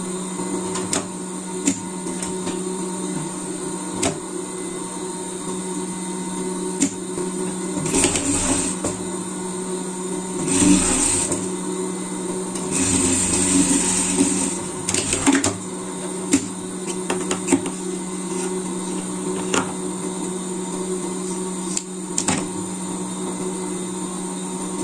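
An overlock sewing machine serging the seams of a basic pet garment, a steady continuous mechanical whir with faint ticking, briefly surging louder in a couple of spots, running with no talking.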